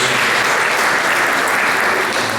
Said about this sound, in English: I want to give her another round of applause